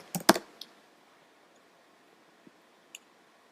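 A quick burst of computer keyboard keystrokes while typing a file name, a few close taps clustered at the start, then two isolated faint clicks in a quiet room.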